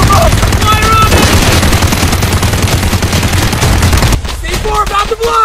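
Heavy rapid automatic gunfire in a police car chase driver simulator game, a loud dense continuous burst that cuts off near the end, leaving engine noise and a few scattered shots.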